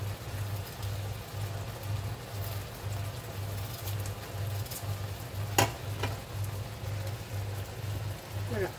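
Potatoes frying in hot oil in a home kitchen, giving a steady, moderate sizzle with a low repeating hum underneath and a couple of brief clatters.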